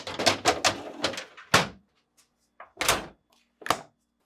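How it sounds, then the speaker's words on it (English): Refrigerator deli and crisper drawers being slid and pushed back into place, a series of plastic sliding scrapes followed by several sharp thunks with short pauses between. "Finally, reinstall the drawers by aligning and pushing back into place."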